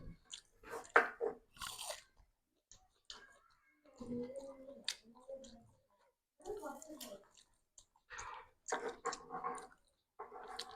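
Close, crunchy chewing and biting of boiled koova (arrowroot), in irregular bursts with short pauses between mouthfuls.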